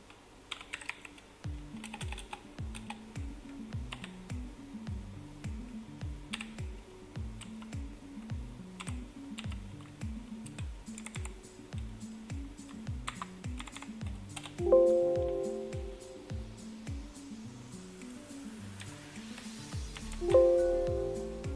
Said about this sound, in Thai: ต่อมาครับพิมพ์ข้อความที่เราต้องการลงไป